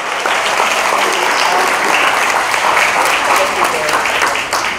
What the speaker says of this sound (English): Let's give a big hand up of applause for Jackie!